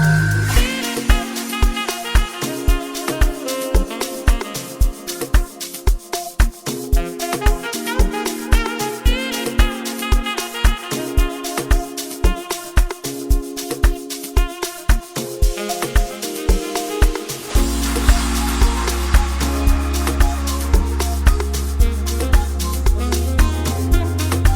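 A steady, upbeat amapiano groove with punchy kicks, bright synth chords and vocal samples, building midway into a fuller section with deep rolling bass.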